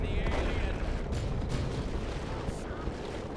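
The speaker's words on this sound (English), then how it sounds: "That's another big kaboom." Explosions and weapon fire in a Dawn of War 2 match between Space Marines and Orks, a dense continuous rumble of booms and blasts at steady loudness throughout.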